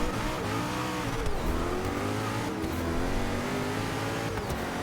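A race car engine in a racing video game, an Agera police car lapping the Sebring short circuit, roars continuously, revving up and down through gear changes with occasional faint tire noise.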